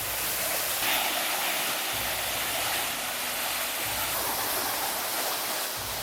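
A waterfall in Darıdere nature park rushes in a constant, loud, broadband roar, with no voices over it.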